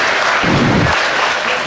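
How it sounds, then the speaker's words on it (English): A crowd at a Suffolk sheep show claps for the exhibitors of a yearling ewe class, with dense, steady applause filling the space at close range and no voices on top. "Let's give these Suffolk exhibitors a big round of applause for this nice class year on ewes"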